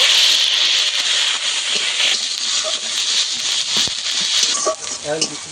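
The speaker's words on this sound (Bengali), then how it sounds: "তেলের মধ্যে পাঁচফোড়ন দিয়ে দেব, পেঁয়াজ দিয়ে দেব" Onion and five-spice seeds fry in hot oil in a pan, a loud, steady close-up sizzle and hiss with occasional stirring scrapes near the end.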